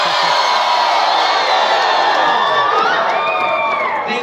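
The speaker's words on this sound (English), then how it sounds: "I just want everyone to yell." An audience at a dance competition yells, cheers and whoops in a loud, sustained roar with high shrieking voices. It holds steady for the full stretch.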